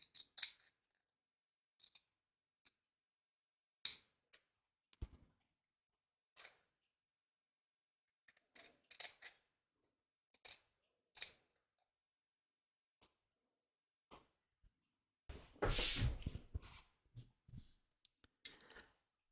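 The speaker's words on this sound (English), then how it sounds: "So you want to cut close to the stitch line without cutting any of the stitches." Short, crisp snips of scissors trimming fabric close to an embroidery stitch line, isolated cuts spaced by quiet pauses, with a longer rustling burst of handling near the end.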